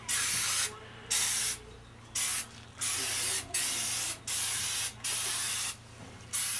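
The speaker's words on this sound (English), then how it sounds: "We just spray that on, nice coat of foam." Seven short bursts of aerosol foam degreaser spraying onto a transmission drain pan, hissing loudly, each lasting about half a second with brief pauses between.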